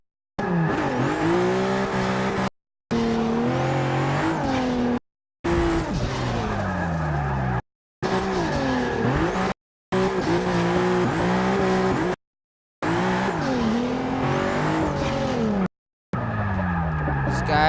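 A Ford GT racing in the Forza 6 video game, loud engine roar rising and falling through gear changes with screeching tire squeal, cut into several segments separated by brief silences.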